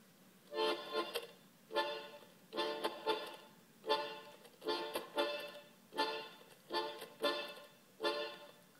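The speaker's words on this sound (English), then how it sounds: "One is called the syncopa, which is a syncopation, and it sounds like this." A tango orchestra plays the syncopa rhythm: short accented ensemble bursts repeating in a punchy, off-beat pattern, about ten evenly spaced hits with brief gaps between them.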